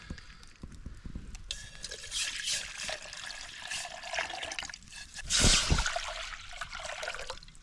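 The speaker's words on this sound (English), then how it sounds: "let's go ahead and pour our water for our mac and cheese and to boil our lobster" Water poured into a pot for boiling lobster and mac and cheese at a camping shelter, a splashing, trickling stream with drips that swells to a louder gush near the end, close and without talk.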